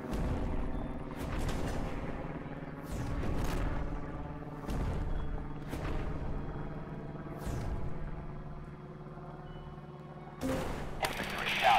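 Artillery barrage in the radio-command war game Radio General, repeated heavy booms rolling at intervals over a steady low rumble, with a louder burst at the end.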